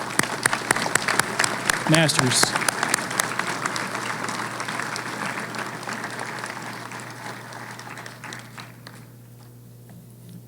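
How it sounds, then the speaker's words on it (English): An audience at a university electrical and computer engineering graduation applauds the graduates with dense, sustained clapping that fades gradually over about ten seconds, while a brief voice speaks over it near the start. "Round of applause for all of our graduates."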